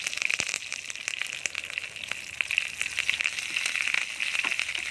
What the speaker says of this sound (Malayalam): എടുത്ത് വെച്ചിരിക്കുന്ന ബാക്കിയുള്ള കറിവേപ്പിലയും കൂടി ഇതിലോട്ട് ഇട്ട് കൊടുക്കാം.